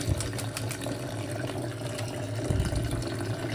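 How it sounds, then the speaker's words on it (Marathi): Lexin powder being stirred into water for vaccinating chicks, a continuous close swirl and slosh of liquid with faint splashes, moderately quiet with no voices. "लेक्झिन पावडर मिक्स करतो पाण्यात"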